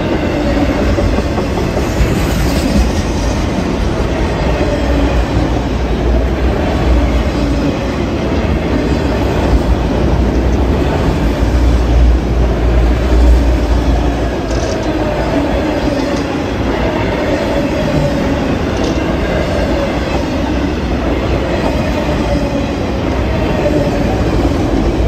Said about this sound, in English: a southbound grain train makes its way down over on the other side of us